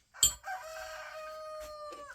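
A single long crow from Joker, a rooster, clear and fairly close, held steadily after a sharp knock at the start and tapering off at the end.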